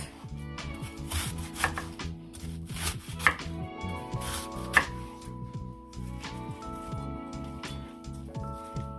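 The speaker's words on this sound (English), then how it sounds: "It's easy going and your knife sharp, and it's easy like this. This is how I'm cutting it." A sharp knife chops cabbage on a board for Southern fried cabbage, close, rapid irregular crisp cuts and crunches with short pauses between bursts.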